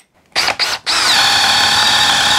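A Ribimex PRBAT20 impact drill fitted with a 16 mm flat bit revs in two short bursts, then runs into a steady, loud, whining spin close up.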